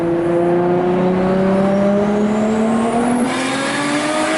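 A Nissan Skyline R32 GT-R engine pulls hard with a rising, whistling turbo spool climbing over the steady roar, loud and close, no talking.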